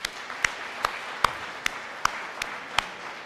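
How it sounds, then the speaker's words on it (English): At a live awards event, a soft wash of audience applause sits beneath a slow, evenly spaced series of sharp, distinct claps, about two or three per second. "I just think we should give ourselves a round of applause for being part of the team."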